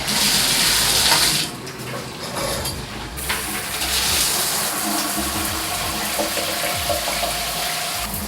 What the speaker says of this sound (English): I'm gonna turn on the water and show you guys what the water looks like